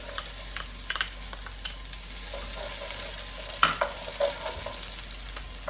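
Onions fry in hot oil in a pan, a steady close sizzle with occasional clicks and scrapes of stirring, no voices.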